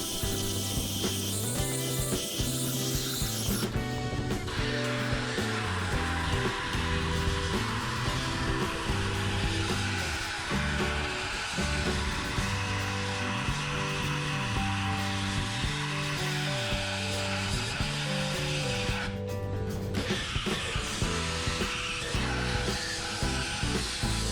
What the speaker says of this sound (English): the soda blasting isn't as harsh as using sandblasting, and it's able to get rid of some of the light rust as well as the buildup and the oil